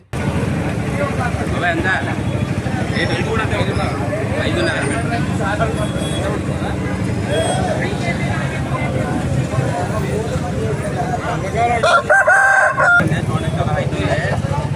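A rooster, a native country breed of about 3 kg, crows and clucks amid a busy, noisy outdoor crowd at a chicken market in Eluru, with people talking throughout.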